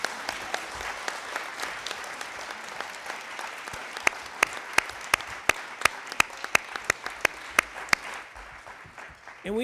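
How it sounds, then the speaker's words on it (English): An audience at a town hall forum on homeless youth breaks into applause, a steady patter of many hands that builds into sharper, closer individual claps before fading. "Let's give them a round of applause."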